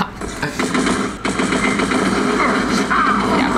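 Gunfire in a video game rattles steadily through the whole stretch, dense and loud, with no clear pauses.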